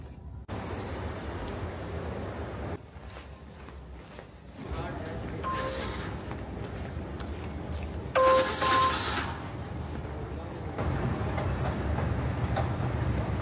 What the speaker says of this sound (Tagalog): Ang ganda ng metro dito sa Dubai